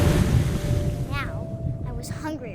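Ocean surf in the video game What Remains of Edith Finch washes in a loud, continuous rush, with brief chirping game sounds rising over the steady water noise.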